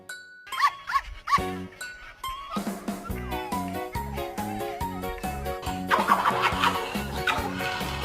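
A pet dog gives a few short whines and yelps near the start, then a steady rhythmic musical backing takes over for the rest.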